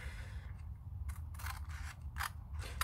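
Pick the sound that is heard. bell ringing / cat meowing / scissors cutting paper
scissors cutting paper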